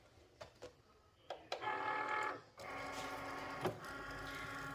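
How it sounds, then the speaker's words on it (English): A Cricut cutting machine loading a mat: a few soft clicks, then a steady whirring motor drive that pauses briefly and resumes with a higher mechanical hum and a small knock, quiet and close with no talking. "I'm going to pull my machine out again and load the mat in."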